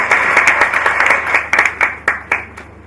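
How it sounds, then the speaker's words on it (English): A group applauds with brisk clapping that trails off into a few scattered, separate claps near the end. "Please a round of applause."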